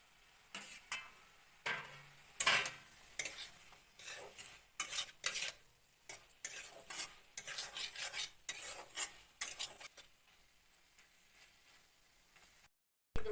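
Potato and eggplant pieces being stirred into spices in a pan for a dried-fish curry, a run of scraping spoon strokes against the metal with faint sizzling beneath, close and irregular, ending in a brief silence.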